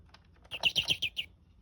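Electronic bluebird chirp from a 1998 LeapFrog farm toy, a quick run of about six bright, evenly spaced tweets, clear and close with a faint background.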